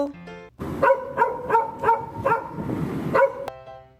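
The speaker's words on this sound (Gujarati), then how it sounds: "डॉग એટલે કૂતરો" A dog barks about seven times in quick, fairly regular succession, close and clear, framed by short tonal sounds before and after.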